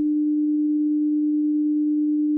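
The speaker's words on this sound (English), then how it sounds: "So I'll click on the play, and it gives us a tone." A single steady pure sine test tone hums at constant pitch and loudness, alone with no other sound.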